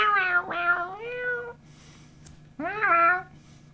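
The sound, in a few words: streamer imitating a cat's meow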